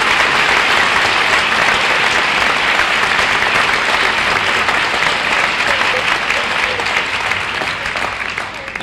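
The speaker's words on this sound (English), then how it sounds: "everyone give her a round of applause" Steady, loud applause from a large graduation ceremony crowd honouring a graduate's mother, dense continuous clapping that holds for the whole stretch and eases slightly at the end.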